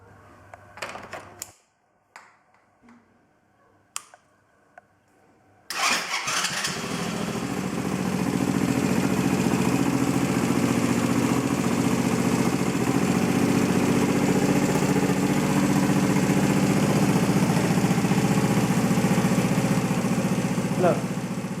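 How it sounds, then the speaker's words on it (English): A Chinese quad bike sits quiet with a few clicks and knocks before its engine catches after about six seconds, then settles into a loud, steady, close idle that runs on alone. "although it starts really well now and idles"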